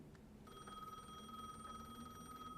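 A telephone rings in the horror video game Lunacy: Saint Rhodes, a steady electronic trill with a sustained tone that starts after a brief pause and keeps going, faint and alone over a low background hum.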